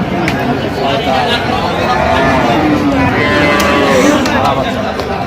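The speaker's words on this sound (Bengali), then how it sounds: "সুন্দর গাভী বাছুর আমরা দেখছি।" Cows with calves low repeatedly amid a noisy cattle market crowd, with people talking over the calls.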